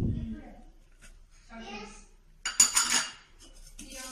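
A spoon stirs cardamom powder into sugar syrup in a pot taken off the stove, for gavvalu sweet shells, making scattered metallic clinks and scrapes with one louder clattering burst midway, among voices talking.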